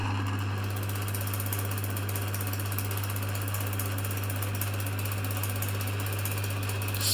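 An L&R Vira-Matic cleaning machine raises its head and rotates its main plate, giving a steady mechanical ratcheting and gear clatter over a constant low motor hum, with no talking.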